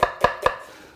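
Three crisp knife chops strike a cutting board in quick succession as onion is thinly sliced, each cut sharp and close, followed by quiet.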